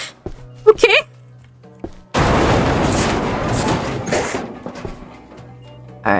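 A gun turret in Ship Graveyard Simulator 2 lets out a loud, sudden blast that rumbles on for a few seconds and then fades. Brief clicks and thumps come before it.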